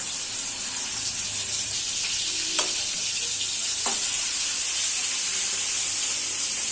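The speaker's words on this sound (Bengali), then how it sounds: "প্রথমে আমি চিংড়ি মাছটা আর মাছের মাথাটা ভালো করে ভেজে নেব।" Shrimp and fish heads fry in hot oil with a loud, steady sizzle and crackle, close by, with a couple of sharp clinks from stirring and no talking.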